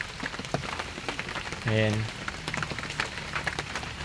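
Heavy rainy-season rain patters steadily on a surface with dense, continuous drumming and scattered drip taps, close and loud, while a person briefly speaks over it and a short low hum swells midway.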